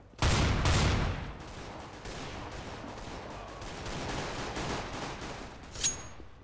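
XM shotgun blasts in Counter-Strike, two heavy booming shots close together followed by a dense rumbling gunfire wash and a faint later click.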